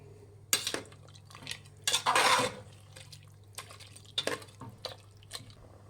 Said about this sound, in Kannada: ಕಾಯಲ್ಲಿ ಹಾಕ್ಕೊಳ್ಳಿ ಮಿಕ್ಸ್ ಮಾಡಿ